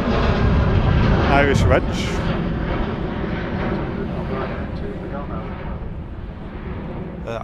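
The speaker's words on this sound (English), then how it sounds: "This Ryanair is on its way to Milan." A 12-year-old Ryanair jet departing Manchester Airport for Milan produces a broad, loud engine roar, strongest early and then easing slightly as it continues, with a person briefly speaking over it.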